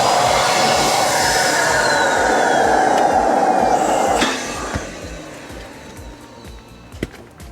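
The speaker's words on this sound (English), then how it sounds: "I have my own inflator here just to make things a little bit faster." A portable electric air compressor hums loudly and steadily while inflating a camping air mattress for a Tesla, then shuts off, leaving a quieter room with small clicks and handling sounds.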